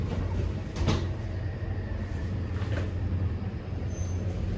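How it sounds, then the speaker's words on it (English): Train doors sliding shut at a railway station, with a couple of brief thuds standing out from a steady, rumbling carriage and platform background. "Doors closing. Please mind the doors."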